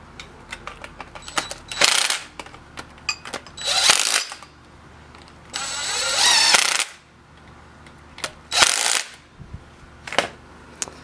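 A power tool drives studs into the harmonic balancer of a 1967 Camaro engine in several short bursts of whirring, separated by clicks and clanks of handling in a garage.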